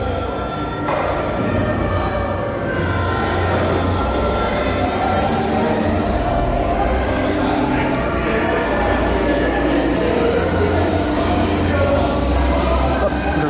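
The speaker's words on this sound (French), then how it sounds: "Un autre train qui arrive." A loud train rumbling into a station at the Efteling theme park, its wheels grinding and squealing steadily throughout, with a faint voice underneath.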